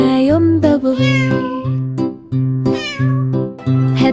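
A small cat meows repeatedly in a children's song, the drawn-out, tuneful meows sung over a steady musical backing at close, loud level.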